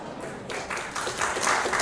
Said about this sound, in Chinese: 掌声与呼声轰鸣。